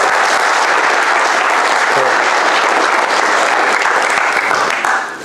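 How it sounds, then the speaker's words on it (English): A lecture audience applauds for a talk on superconducting quantum processors, loud, dense clapping sustained for about five seconds before starting to taper off at the end. "Okay, so please round of applause."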